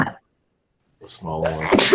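A single short human sneeze bursts out near the end, after a quiet pause, with a voice speaking just before and around it.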